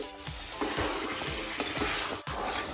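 Mutton with masala and fried onion fries and stirs in a pan over a low flame. A steady sizzle carries throughout, broken by repeated scraping stirs, with a brief clatter near the end.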